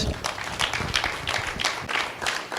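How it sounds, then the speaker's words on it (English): Church congregation clapping hands during a sermon, a lively burst of fairly rhythmic, close handclaps that continues steadily and eases off slightly toward the end. "Let's give a mighty hand clap to the Lord."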